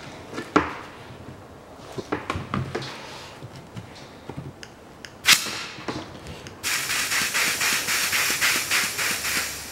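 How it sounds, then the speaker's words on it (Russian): Work on the rear brake caliper of a 2010 Chevrolet Epica, pushing out a stiff, sticking piston, heard as scattered sharp clicks and scrapes followed by a steady, pulsing hiss, close and with no talking. "Выдавливаю поршень."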